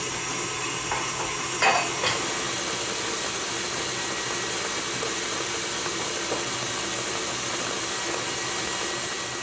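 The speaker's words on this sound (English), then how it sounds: "Let's set it to mix until it's blended and puffy." An electric mixer runs steadily in a bowl of sugar and egg yolks, a constant whirring motor hum that holds for the whole stretch, with a couple of brief knocks early on.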